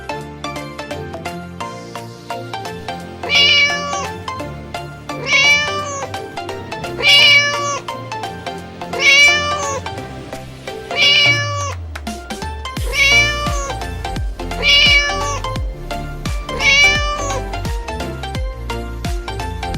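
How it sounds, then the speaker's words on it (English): A cat meows repeatedly, about eight distinct meows in a steady rhythm, close and clear, with a low background tone entering partway through. "Cat."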